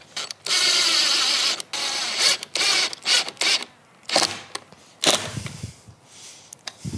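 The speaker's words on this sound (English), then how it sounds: "So now I can put on the outer strike with the 3-inch screws." A power driver sinks 3-inch screws into a door lock's outer strike, producing several loud whirring runs separated by pauses and a few clicks near the end.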